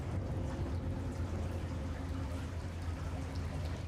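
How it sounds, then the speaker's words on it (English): Steady rushing water, as of a running flow in a dark underground setting from the Chernobyl series, fills the whole stretch at a constant loud level with a deep low rumble beneath it. "Here, running water."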